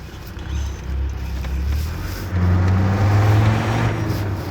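Restored Land Rover Defender engine revving on a test drive, a deep, throaty drone that climbs louder midway and holds a gritty low roar, close and continuous.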